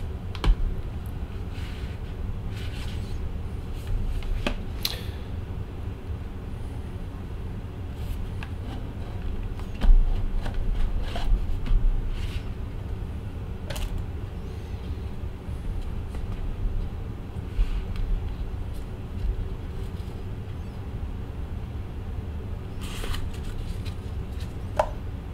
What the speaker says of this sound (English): let's open up the box for the Presa first